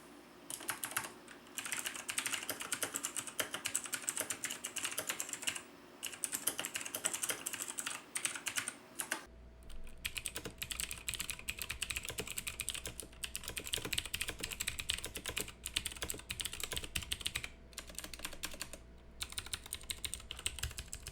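Rapid, clicky keystrokes on a Razer BlackWidow Chroma mechanical keyboard with older Razer Green switches, steady bursts of typing with brief pauses, close and crisp throughout.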